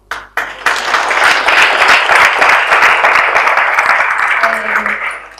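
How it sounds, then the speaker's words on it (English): An audience at a community gathering gives steady, full applause for a group of youth football players, a dense, sustained clatter of many hands that lasts about five seconds. "Just give them a little round of applause."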